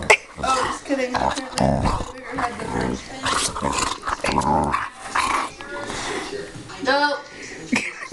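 A dog growls and snarls in close, loud bursts through most of the stretch, mixed with people talking and laughing nearby.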